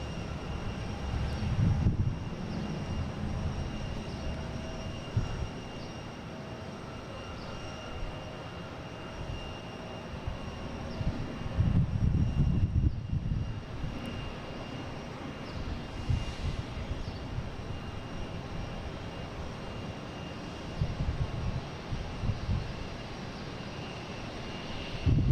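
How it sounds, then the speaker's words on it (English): A United Airlines A321neo from Denver lands at Boston Logan, a distant steady jet engine roar sustained throughout, swelling slightly midway then holding under light wind and ambient noise. "United Airlines coming in. From Denver, A321neo"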